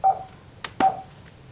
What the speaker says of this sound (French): C'est une alarme? Ah non, c'est Internet